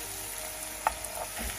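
Food frying in a pan is stirred once or twice, a quiet steady sizzle broken by a single sharp scrape of the utensil midway and a soft shuffle after.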